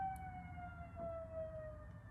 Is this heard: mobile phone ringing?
no